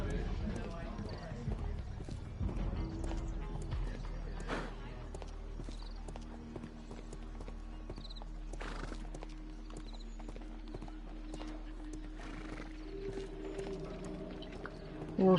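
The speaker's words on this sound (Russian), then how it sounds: "Лошадь, наверное, током ударила." Horse in a Sherlock Holmes video game clopping its hooves and whinnying in an old gas-lamp square, fairly faint beneath background music, with some talking.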